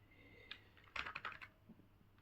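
Quick bursts of typing on a computer keyboard, a short isolated tap followed by a cluster of rapid clicky keystrokes, close but fairly quiet, with no talk over them.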